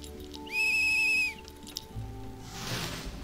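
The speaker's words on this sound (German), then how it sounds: "Soll ich die in diese Pfeife blasen?" A small whistle blown in the video game Bloomtown gives one sustained, clear high tone lasting under a second, followed by quieter ambient game sounds.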